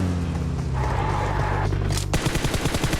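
Gunfire in the PUBG Mobile game rattles off in a sustained burst, then ends in a loud sharp crack followed by rapid repeated shots, with no talk over it.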